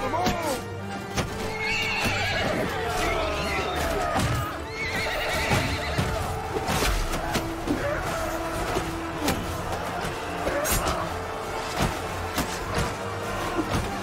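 Horses whinny and neigh repeatedly amid clip-clopping hooves and battle noise during a city siege in Mount & Blade 2: Bannerlord, with a voice talking over the busy, continuous din.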